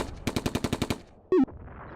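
Machine gun fire in the World War II strategy game Combat Mission: Beyond Overlord: a quick burst of about eight evenly spaced shots, followed by a short whistling tone, with no speech.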